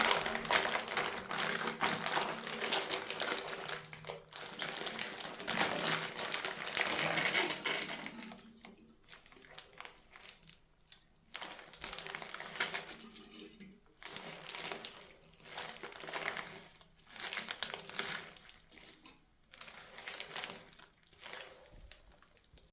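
A wet wool knit hat is pressed to squeeze out water, producing soft, repeated squelching and dripping bursts that come in uneven pulses with short quiet gaps, fairly close and faint.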